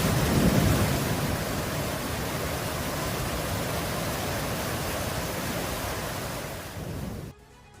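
Steady roar of a thunderstorm in New South Wales, Australia, with heavy broadband rain and rumbling wash that stays loud and constant before cutting off abruptly near the end.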